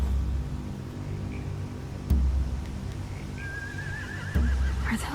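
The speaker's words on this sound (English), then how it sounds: "They have horses." Horse neighing in The Walking Dead video game, a thin wavering whinny late in the clip over a low droning background with a couple of soft thumps, no speech.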